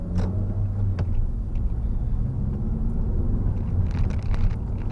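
A 2015 Honda Civic pulling away from a hill start, its engine a steady low drone that rises slightly as the car moves off, with some wind buffeting on the microphone and no talk.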